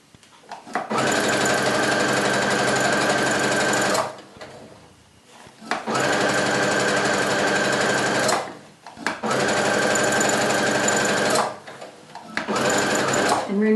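A sewing machine stitches a half-inch seam on pajama pants, running in three long steady bursts separated by brief pauses, close and loud.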